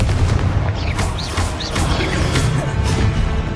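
Fiery Confringo spell blasts in Hogwarts Legacy, a rapid series of loud crackling explosions and booms close by, with no talking.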